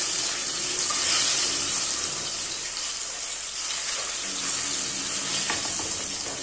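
Garlic frying in hot oil in a home kitchen, giving a steady, close bright sizzle and crackle that holds evenly throughout with no talking.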